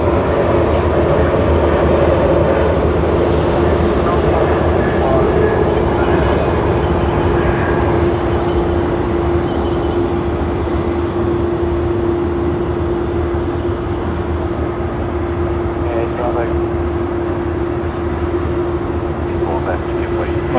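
Malaysia Airlines flight MH251 from Kuala Lumpur arrives at Sydney Airport, a sustained jet drone with a steady tonal hum that holds at even strength for about twenty seconds before thinning slightly.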